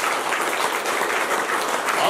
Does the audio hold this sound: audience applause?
yes